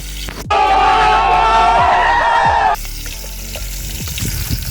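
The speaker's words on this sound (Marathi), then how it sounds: "मिरच्या आपण जराशा तळू देतो दादा" Green chillies fry in hot oil for a khichdi tempering, a loud bubbling sizzle that bursts in suddenly and holds steady for about two seconds before dropping to a quieter crackle under faint background noise.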